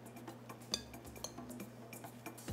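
Seasoned popcorn, flavored with shallot, orange, thyme, duck and kosher salt, is tossed in a bowl. Faint, scattered clinks and ticks sound against a steady low hum, with a few sharper taps standing out.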